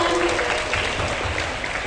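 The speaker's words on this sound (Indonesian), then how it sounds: "tepuk tangan untuk Kak Adinda sekali lagi teman-teman" A seminar audience claps steadily and fairly loudly, a continuous wash of applause without pauses.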